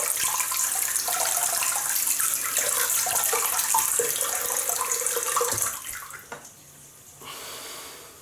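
Tap water runs into a sink while a synthetic shaving brush is wetted, a close, steady splashing hiss that shifts and fades near the end as the flow is interrupted.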